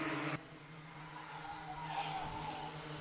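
Rotax Max racing kart held flat out through a corner, a steady buzzing two-stroke engine note with tyre scrub, loud and continuous after a brief louder burst at the start.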